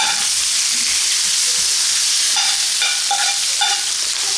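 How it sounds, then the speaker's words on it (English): Onions sizzle steadily in a pot for pot roast, a loud, close, continuous frying hiss with a few light stirring clinks and no talking. "we're gonna take the onions and dump them right in"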